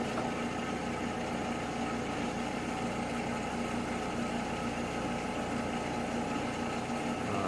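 Brewer Science 200CB spin coater with hot plate running up through its speeds, a steady, dense mechanical hum and whir that stays constant and fairly loud throughout, with no voices.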